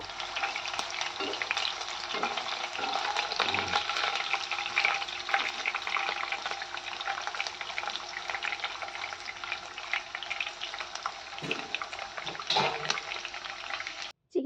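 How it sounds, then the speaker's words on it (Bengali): Chicken pieces for chilli chicken are deep-fried in oil, giving a loud, continuous bubbling sizzle with occasional stirring clinks, close and steady throughout before stopping abruptly at the end. "এবার চিকেনগুলোকে খুব ভালো করে আমরা ভেজে নেব প্রত্যেকটা ডিপভাবেই ভেজে নেব"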